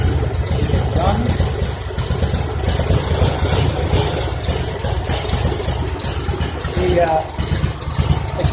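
A biogas generator engine idles in a garage, a loud, close, steady mechanical chugging that runs throughout with a faint rattle on top.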